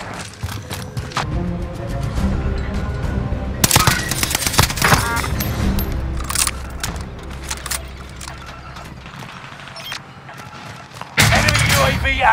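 Bursts of automatic gunfire from Call of Duty Vanguard in Warzone, rapid rattling volleys with heavy thumps, loud and close, continuing across most of the span with a louder burst near the end.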